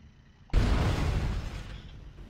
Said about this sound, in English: I'm gonna use my flamethrower.